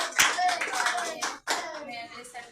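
Clapping from a group at a Sunday Holy Communion church gathering, a dense burst of many hands that pauses briefly and resumes, with voices talking through it.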